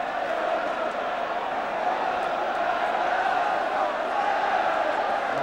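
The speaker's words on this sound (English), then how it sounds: "the cry from the Tottenham crowd is Wembley, here we come" A Tottenham crowd at a League Cup semi-final against Newcastle United chants "Wembley, here we come", a dense, steady roar of massed voices filling the stadium throughout without a break.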